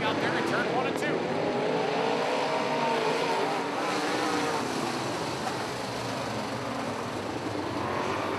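A pack of modified race cars roars at a dirt oval under a dense, continuous wall of engine noise, with an announcer calling the action over the top throughout.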